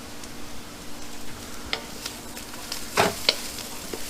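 A spoon stirs thyme into shrimp etouffee in a pot over a soft sizzle, with quiet scrapes and a couple of sharper clinks of utensil on the pot, no talking.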